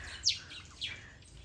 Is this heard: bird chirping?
yes